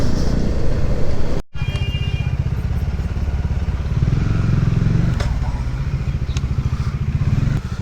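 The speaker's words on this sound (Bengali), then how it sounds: "তো অফরোডের বাইক" An off-road motorcycle engine runs steadily and loudly up close, with a low throbbing drone and a brief cutout near the start, on a trip through rural Purulia.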